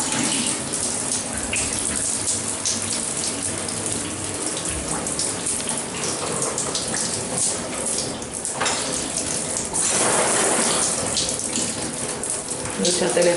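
Shower in a restroom at Brisas del Aeropuerto runs steadily, a close, constant hiss and spatter of water on tile that swells louder near the end.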